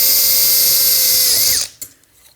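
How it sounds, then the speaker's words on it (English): A power drill whines at high speed while boring through a metal bracket and box, a loud steady tone that winds down after about a second and a half, followed by a brief clunk and handling noise. "when we have to drill through the bracket, it's like drilling through 2 extra walls"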